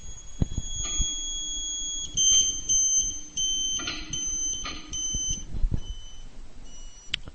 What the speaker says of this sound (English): Move the elevation adjustment bolt until you hear the beeper tone drop.